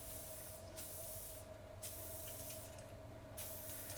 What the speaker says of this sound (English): what I like to do is put some of the lube on there right away.